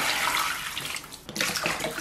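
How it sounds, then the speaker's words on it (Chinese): Water poured from a tap into a pot packed with a scraped, cleaned pig's head, a steady close rushing splash that briefly dips and then resumes. "然后咱们给里边稍微来点水"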